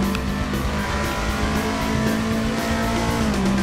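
A Toyota Sprinter Trueno AE86 pushed hard around a lap in Assetto Corsa, its engine holding a steady, loud, close drone with faint tire squeal mixed in.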